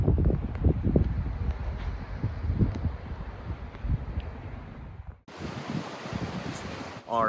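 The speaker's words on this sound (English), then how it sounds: "super windy here" Strong wind buffets the microphone in heavy rumbling gusts among sand dunes, then drops abruptly into a quieter hiss as a voice begins speaking.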